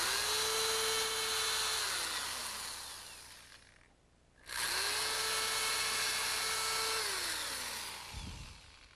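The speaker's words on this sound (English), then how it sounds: "we're going to use an 1/8" bit to drill these holes" Power drill with a 1/8 inch bit boring two pilot holes into wood, each a steady high whine that winds down, close by with a short pause between them.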